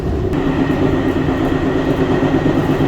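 A train runs through the Portuguese countryside, heard from inside as a loud, steady low rumble and drone of wheels on rails with a faint early click, no voices.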